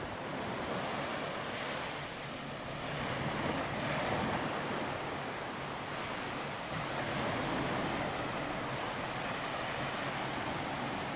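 Soft, continuous ocean surf washing on a Normandy beach, a broad hissing wash that swells gently in slow waves, steady and moderately distant with some wind, no voices.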